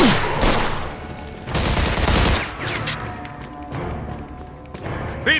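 Gunfire in the crime action game Mafia II: Definitive Edition, with repeated loud bursts and volleys of shots crashing in over a dense, busy background of combat noise.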